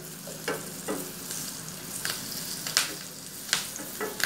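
Long-cut green chillies and small pieces of ginger frying in hot oil, a steady close sizzle with a few sharp stirring scrapes spaced through it, no voices.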